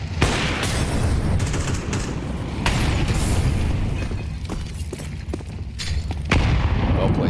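Counter-Strike 2 match on Dust 2 in a pro tournament: a grenade blast and bursts of gunfire crack out over a constant low rumble, several sharp loud hits spread through the stretch.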